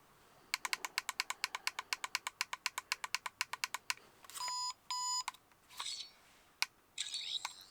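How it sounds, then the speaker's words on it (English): A toy 15th Doctor sonic screwdriver emits a rapid run of about two dozen sharp, evenly spaced beeps, followed by longer warbling electronic tones and bursts, close and clear with no talk. "Oh, it beeped, but I didn't put it out in time."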